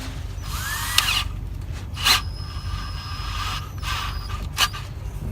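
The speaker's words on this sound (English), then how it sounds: "go on low speed on my drill, and drill out." A power drill runs steadily at low speed drilling out a damaged thread in a Volvo D13 engine, a continuous mechanical whir with a few brief squealing bursts as the bit grinds into metal.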